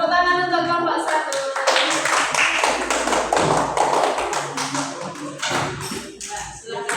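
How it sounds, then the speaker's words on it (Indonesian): Students in a classroom clap for a group, a quick burst of close hand claps that thins out after a few seconds while a voice speaks. "Tepuk tangan untuk kelompok 1."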